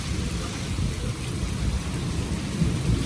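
Steady heavy rain in Lahore roars without a break, with low rumbling thunder rolling underneath throughout.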